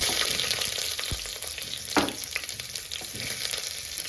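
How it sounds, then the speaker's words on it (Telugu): Chopped onions, mustard seeds and curry leaves frying in oil in a pressure cooker for mutton liver fry, giving a loud continuous sizzle with occasional stirring scrapes. "ముందుగా మటన్ లివర్ ఫ్రై చేయడానికి కుక్కర్లో ఆయిల్ వేసేస్తున్నాను. ఆవాలు, కొంచెం కరివేపాకు"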